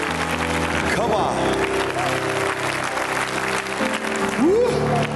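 A church congregation claps and applauds in loud, sustained waves, with cheers, whoops and shouting voices rising over the clapping throughout.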